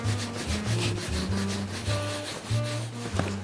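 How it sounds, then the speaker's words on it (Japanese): A bone folder rubbed firmly over leather during boot making, a continuous scraping friction with rhythmic back-and-forth strokes, close and fairly loud. "このコクリ棒でこうやってこすればこんな感じでへこみが消えてくれます"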